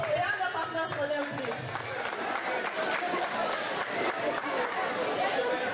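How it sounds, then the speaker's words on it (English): Wedding reception guests clap and cheer together in a noisy hall, a steady crowd roar of applause mixed with chatter, continuous and moderately loud. "A round of applause for them,"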